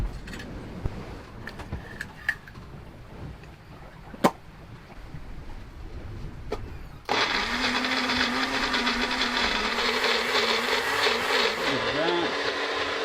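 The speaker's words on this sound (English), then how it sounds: "power while we use the blender." A blender starts abruptly partway through and runs loudly with a steady high whir, making homemade tahini from garlic and sesame seeds, after a quieter stretch with scattered knocks.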